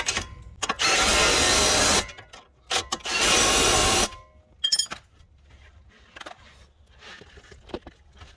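Power tools bolting down a CV axle on a 2015 Subaru XV Crosstrek: two loud bursts of impact-gun rattling, each about a second long, followed by quieter metallic clicks and tool handling.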